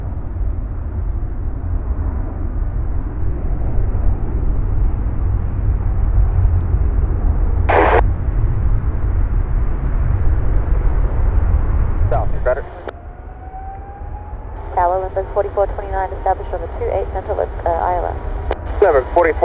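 Large airliners at Chicago O'Hare International Airport, a loud continuous engine roar that cuts off partway through, followed by quieter radio chatter with talking voices.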